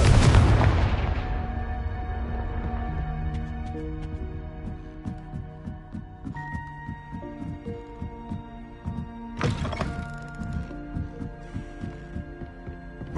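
A Confringo spell blast in Hogwarts Legacy erupts with a loud fiery burst at the start, followed by a second explosive blast near the ten-second mark, all layered over sustained orchestral game music with rhythmic low thumping and no talk.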